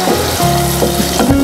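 Tomato paste for nargisi kofta hitting hot oil in a frying pan, a loud close bubbling sizzle that crackles and spits in short bursts.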